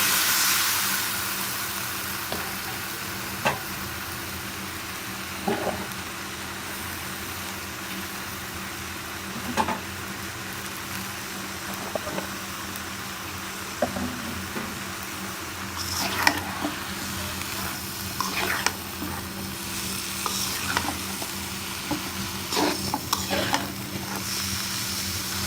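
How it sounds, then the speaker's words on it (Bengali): Vegetables and dried shutki fish with eggplant are stirred together in a pan, a steady sizzle under intermittent spatula scrapes that grow busier in the second half. "সবজি আর শুটকি আমি একসাথে নাড়া দিচ্ছি, ভালো করে নাড়াচাড়া দিয়ে নিচ্ছি যাতে দুটোই একসঙ্গে মিশে যায়"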